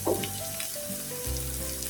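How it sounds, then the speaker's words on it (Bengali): A potato and egg snack frying in oil on medium heat gives a steady, even sizzle with a low constant hum beneath, close and unbroken for the whole stretch. "মিডিয়ামে রেখে সুন্দর করে ভেজে নেবেন"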